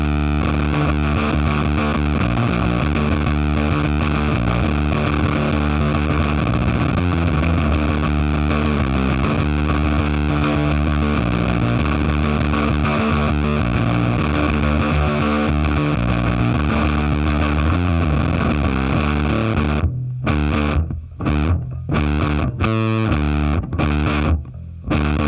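Fender Pelt Fuzz pedal on bass guitar producing a thick, fuzzy, spattery gated tone, loud and sustained with dense distorted notes, then choppy gated bursts cutting in and out near the end; no talking.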